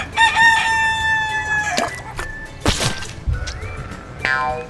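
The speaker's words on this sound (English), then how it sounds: "Rooster." A farmyard rooster crows loudly and close, with a long cock-a-doodle-doo followed by shorter crows and a few clucks.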